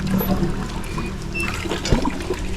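Light rain starts dripping outdoors while fish fries nearby, a close, continuous trickling and pattering of water with a few sharper drips.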